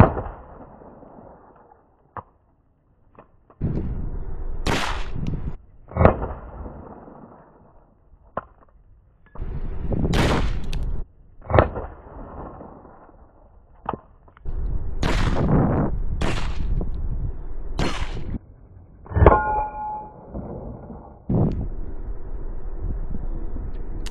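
A 10mm Rock Island Armory TAC Ultra pistol fires a series of sharp, loud shots outdoors, some in quick pairs, with several followed by ringing metallic pings from steel targets.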